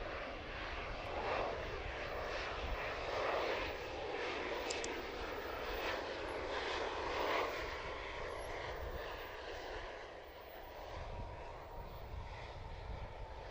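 An airplane arriving from Dulles at a busy cargo airport, its engines a faint, distant, continuous rumble and hiss that swells and eases slightly throughout.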